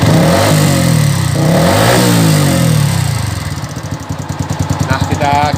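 A Yamaha Vixion (older model) motorcycle engine running nearby, a loud steady rumble with revving rises early on that settle into a fast, even idle chug, with some background noise over it.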